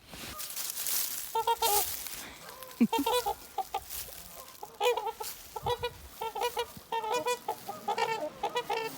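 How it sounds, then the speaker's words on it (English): A pair of mating swans calls close by in a series of short, nasal honks that come in uneven bursts and keep overlapping for the whole stretch. "It's a pair of mating swans."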